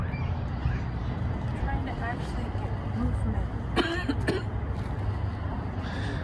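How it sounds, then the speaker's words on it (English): A couple of short, dry coughs from a woman with a lingering post-COVID cough cut through a noisy train station, with people talking and a steady rumbling hum underneath. "has a little residual dry cough from the COVID-19"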